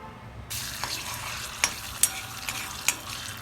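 Chicken liver frying in oil in a pan, a steady close sizzle with a few sharp spits and pops and a soft stirring scrape, no voices.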